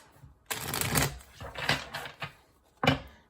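Tarot cards being shuffled in bursts, a long riffle followed by shorter shuffles with brief pauses between them, close and crisp, with no talking.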